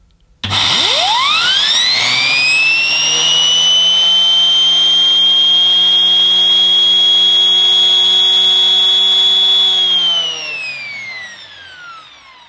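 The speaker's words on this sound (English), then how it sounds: "let's fire up Henry Home and we can see this TurboCat EX turbo nozzle" Henry Home vacuum cleaner with a TurboCat EX turbine powerhead starting up and running: a loud, steady high-pitched whine that rises quickly at switch-on, holds, then winds down at the end.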